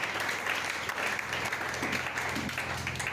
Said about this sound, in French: Acclamez pour la parole.